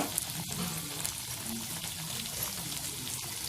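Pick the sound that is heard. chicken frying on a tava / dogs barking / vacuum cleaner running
chicken frying on a tava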